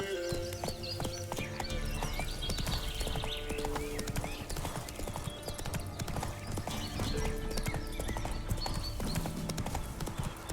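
Roach, the horse in The Witcher 3, gallops in quick steady clip-clop hoofbeats over ambient game music and sounds, moderately close, with no talk.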